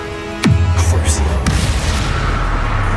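The Crucio curse is cast in the Hogwarts Legacy video game: a loud, sudden booming hit with a sinking tone, followed by a second sharp crack and a lingering low rumble.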